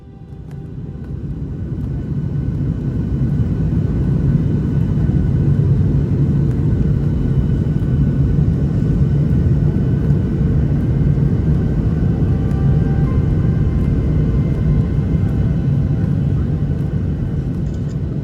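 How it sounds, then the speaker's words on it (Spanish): An airplane lands, heard from inside the cabin as a loud, steady engine and airflow rumble that swells over the first few seconds and then holds constant. "El aterrizaje es un poco extenso, así que lo vamos a acelerar un poquito."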